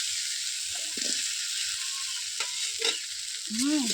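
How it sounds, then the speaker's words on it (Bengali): Fried bora fritters are stirred in a pan with scraping, clinking strokes over a low, steady sizzle, close and fairly quiet. "বড়াগুলো দিয়ে এখন সুন্দর করে নাড়তে হবে"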